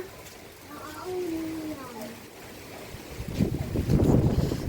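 Steady gusting wind roars against the microphone, growing heavier toward the end, while a voice briefly talks over it.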